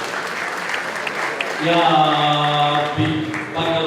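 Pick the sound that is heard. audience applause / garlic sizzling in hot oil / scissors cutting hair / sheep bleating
audience applause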